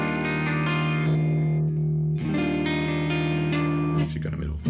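Clean electric guitar tone through channel one of a modeled Mesa Boogie Triple Rectifier amp in AmpliTube 5, with sustained, chorus-tinged chords ringing out, a brief pause, then another strummed phrase ending in a scrape.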